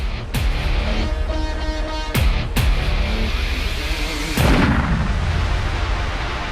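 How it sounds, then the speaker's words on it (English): A close gun firing at short range gives several sharp booming cracks with rumbling tails, one at the start, two together near the middle and a final loud one later, with no talk. "Cook fires his gun."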